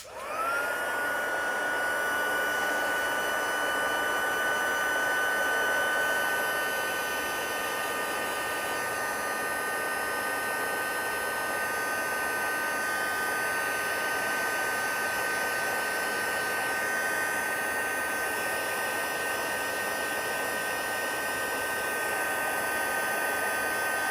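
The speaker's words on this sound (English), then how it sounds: "I've got my heat gun here, so it'll be a little bit noisy" A heat gun blows continuously with a steady, loud whooshing roar and a faint high whine, running without pause from start to finish.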